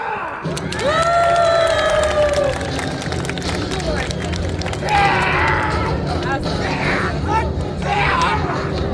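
An outdoor audience in front of Deoksugung Palace claps and cheers for a Joseon martial arts demonstration with twin swords and spears, with sustained dense applause and excited voices rising and swelling over crowd babble.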